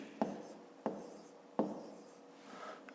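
Pen or pencil strokes scratch across paper in three distinct, evenly spaced bursts, followed by a softer rub, as a fifth-grade maths calculation is written out, quiet and close.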